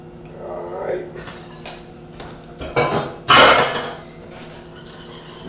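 Pastry cream, a custard, being mixed in a pot with a utensil: scattered metallic clinks and scrapes that build to a couple of louder clattering bursts near the end.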